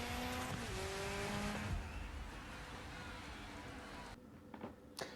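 Rally car engine revving and tires scrabbling on a stage in the Dirt Rally video game, a steady high-pitched drone with shifting pitch that drops away abruptly near the end, faint and continuous.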